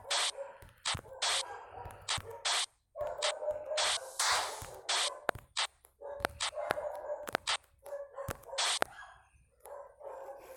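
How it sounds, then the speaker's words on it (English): Several dogs bark repeatedly in irregular bursts, mixed with yips and whimpers, fairly close and prominent, with no speech. "apologies for the noisy dogs"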